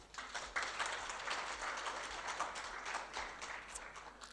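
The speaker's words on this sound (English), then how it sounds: "a round of applause for that" Conference audience applauding at an MTC tech hub event, a steady broadband wash of many hands clapping close by, sustained for several seconds at moderate loudness without speech.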